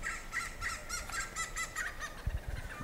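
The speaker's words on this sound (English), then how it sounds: "That's a tarako, man. One of my favorite African birds." A loud turaco calls repeatedly in a steady series of harsh, resonant notes, outdoors with background noise.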